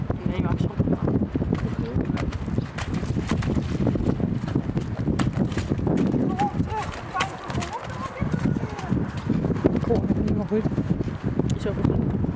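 Rapid hoofbeats thud in a fast, continuous rhythm under wind noise buffeting the microphone, with people talking over it.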